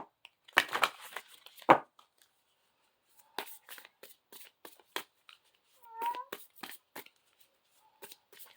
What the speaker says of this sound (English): We got a loud kitty cat out there, too.